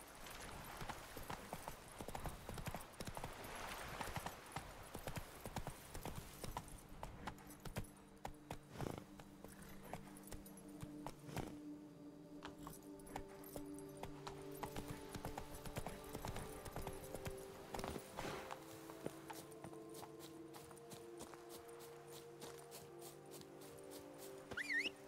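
Roach, the horse in The Witcher 3: Blood and Wine, gallops, her hooves giving a steady, quiet clip-clop that runs throughout alongside faint game ambience.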